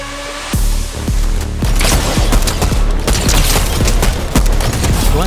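Rapid gunfire in Fortnite aimed at another player, a loud close stream of repeated shots and sharp cracks running almost nonstop after a brief quiet opening.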